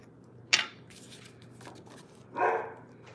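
A dog indoors barks at a delivery truck arriving outside: two separate barks about two seconds apart, the first sharp and the second longer, with quiet room noise between them.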